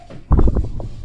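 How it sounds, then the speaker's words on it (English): A single deep, rumbling burp from a person, short and loud, erupting abruptly and trailing off in a low gurgle. "I told you, oh, I had to burp."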